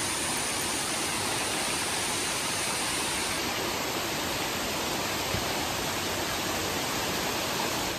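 Waterfall on a river trek in the Agathiyar hills, a dense, constant roaring rush of falling water heard close and loud throughout, with no voices.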